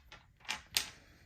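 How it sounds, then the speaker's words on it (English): Dice clatter onto a surface in two or three quick, sharp clicks over about a second, close and fairly quiet in an otherwise still room. "let's roll our dice because this is for the new year"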